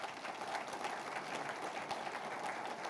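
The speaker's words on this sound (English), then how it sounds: "So how about another round of applause for Anirban?" Sustained applause from an audience at a chamber of commerce annual membership meeting, a dense steady patter of many hands clapping at moderate level throughout with no speech over it.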